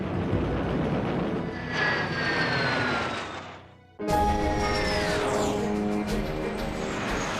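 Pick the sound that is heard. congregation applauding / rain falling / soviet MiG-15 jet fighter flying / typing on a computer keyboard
soviet MiG-15 jet fighter flying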